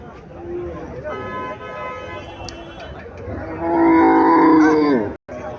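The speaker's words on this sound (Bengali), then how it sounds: "এখানে একটা দেশি গাবি দেখা যাইতেছে।" A local-breed cow at a cattle market in Chandmura, Cumilla, gives a loud, drawn-out moo near the end, after softer earlier calls, with background market noise.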